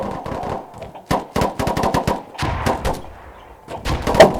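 Rapid bursts of video game gunfire crack out in quick volleys, loud and close, with short gaps between the bursts and no talking.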